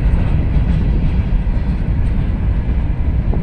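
A long loaded gondola freight train passes close by, including an old Conrail hopper. Its steady, loud rolling rumble of rail cars and wheels runs continuously with no gaps.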